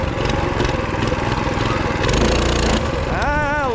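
A small minibike engine revs hard and steadily during a wheelie attempt, close and loud, its pitch rising and falling near the end.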